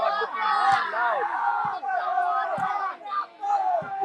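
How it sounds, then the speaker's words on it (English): The Kilimeru crowd at the Bobby Brothers Interfaith Cup 2022 volleyball final roars steadily and loudly, with a few sharp slaps and thuds cutting through the continuous cheering. "the Kilimeru crowd looking really loud"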